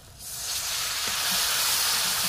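Spice paste of turmeric and cumin frying in oil until the oil separates, a bright sizzle swelling up then holding steady and close, with faint clinks, no voices.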